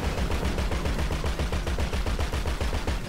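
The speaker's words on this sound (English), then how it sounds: "Shot her in the foot, and she went kaput." Rapid automatic gunfire in Grand Theft Auto V online free roam rattles on without a break, a steady, loud, close burst of evenly spaced shots with no talk over it.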